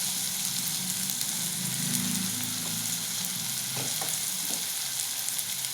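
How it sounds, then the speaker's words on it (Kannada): Spiced burger filling seasoned with garam masala, turmeric and salt fries loudly in a pan, giving a dense, constant sizzle with a few scrapes of stirring near the end. "ಇದನ್ನ ಸ್ವಲ್ಪ ಫ್ರೈ ಮಾಡಿದೆ ಫ್ರೈ ಹಾಕ್ತೀನಿ"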